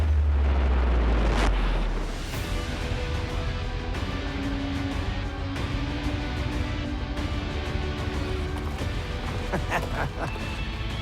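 A bomb-proof test blast erupts with a huge low boom in the opening two seconds, then a long rumbling, crackling aftermath of debris and wind noise fills the rest of the scene at a range testing explosive cancellation.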